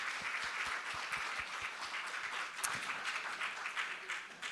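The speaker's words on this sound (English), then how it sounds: "a round of applause for our panelists for this discussion." Conference audience at a security forum in Moldova applauds panelists, a dense, steady patter of many hands clapping from a distance, with a few sharper nearby claps, sustained throughout without speech.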